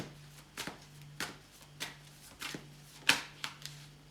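Tarot cards being shuffled and drawn during a reading, a handful of soft separate riffles and slaps spaced out over a few seconds with one sharper snap, quiet and close.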